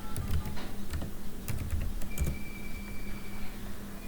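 Keys clack on a computer keyboard as a command is typed on a Cisco router terminal, in close, quick clusters of taps over a low steady hum.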